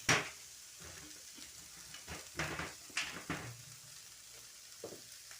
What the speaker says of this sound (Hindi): ये फटाफट मैंने अब इसको फ्राई करना है। ठीक है, ये चीज़ें इसको मैं तेज़ आंच पे थोड़ा सा करके